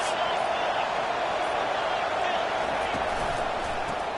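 Stadium crowd at a football game roaring steadily behind the defense on a big third down, a dense, continuous wash of cheering noise that holds at a constant level throughout.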